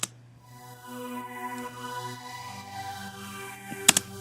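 Progressive house synth pad drenched in reverb and delay, a soft sustained chordal wash with layered tones that shift slowly, ending in a couple of brief sharp clicks, no voices.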